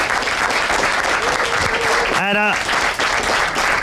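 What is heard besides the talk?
audience applause for the commentary team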